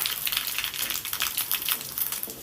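Two dried red chilies and a spoonful of panch phoron sizzle in hot oil while being stirred, a dense crackling hiss with quick spitting pops, close and steady with no voices.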